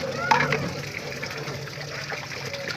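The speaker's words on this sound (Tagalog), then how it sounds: "hugasan pa natin ulit para linisan pa natin na medyo may dugo-dugo pa" Running water splashes over galunggong fish as they are rinsed clean before cooking paksiw, a close, uneven gush and trickle with a brief louder splash near the start.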